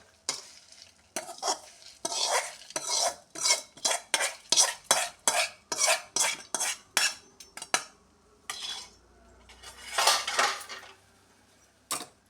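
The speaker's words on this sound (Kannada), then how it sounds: "ಇದಕ್ಕೆ ಈ ಮಸಾಲೆ ಪದಾರ್ಥಗಳನ್ನು ಮಿಕ್ಸ್ ಮಾಡ್ತಾ ಇದ್ದೀನಿ" Spice mixture stirred into pieces of drumstick in a pan: a long run of rhythmic scraping strokes, close and crisp, with a short pause near the end before a few more, no talking.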